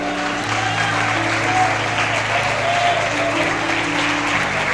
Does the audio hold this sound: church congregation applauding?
yes